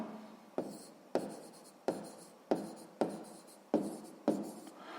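A pen writes on paper during a sixth-grade math exercise, giving about seven distinct scratchy strokes in a steady rhythm, close and fairly quiet, with brief pauses between them.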